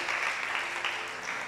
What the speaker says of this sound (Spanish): Denle ese aplauso fuerte al Señor.